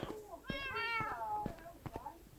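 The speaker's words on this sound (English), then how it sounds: "And I put the cats in" Cats in the Minecraft video game meow several times in quick succession, close and clear, with short tonal cries separated by soft clicks and quiet background talk.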